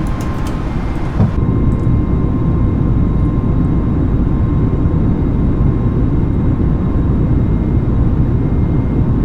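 Steady, loud roar of an Air Asia A320neo jet's engines and airflow inside the cabin as it climbs after takeoff from Kota Kinabalu, a continuous broadband rumble with no talk.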